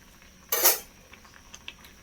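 A metal lid set back down onto a pot of simmering mango curry, one brief clanking contact followed by a few faint small clinks, close and clear with no talk.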